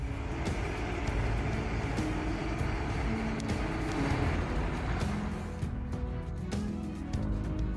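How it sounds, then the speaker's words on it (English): Heavy diesel engine of a skidder logging machine working on a steep forest slope, a steady loud drone with low rumble and shifting tones, occasional clanks and knocks throughout. "See this skidder?"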